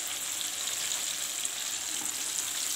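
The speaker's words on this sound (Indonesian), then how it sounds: "Ini menggoreng dengan api sedang ya" Oil sizzling and crackling steadily as chicken deep fries over medium heat, a continuous bright hiss close by with no talking.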